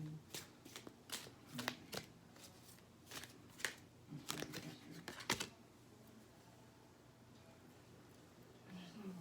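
A tarot card deck is shuffled in several quick, crisp riffling bursts, close and fairly quiet, then the room goes still with faint background hiss.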